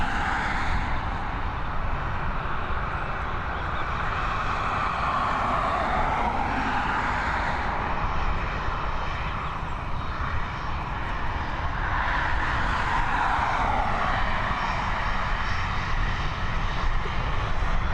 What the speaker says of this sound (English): We've got our next Boeing 737. We're heading over to Biarritz.